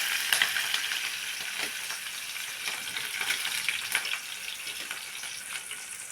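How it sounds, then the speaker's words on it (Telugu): Chili and onion sizzle in hot oil in a pan, a continuous close crackling fry with small pops, cooking for a bean and tomato curry. "ఇప్పుడు మిర్చి ఆనియన్ వేస్తున్నా"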